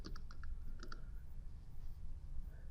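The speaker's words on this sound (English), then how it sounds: "You can just start typing here in the box," Typing a patient's name on a computer keyboard: a quick burst of soft key clicks at the start, a short pause, another small cluster, then quiet room tone, faint and close.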